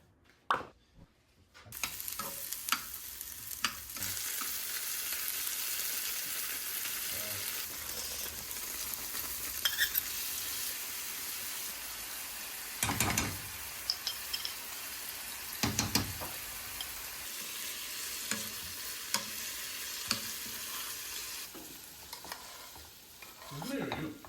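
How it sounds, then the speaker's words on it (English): Tofu fries in a hot pan with a loud, continuous sizzle that stays steady for a long stretch, broken by a few sharp spatters and occasional utensil clicks, with no talking. "I'm just gonna see if it fries."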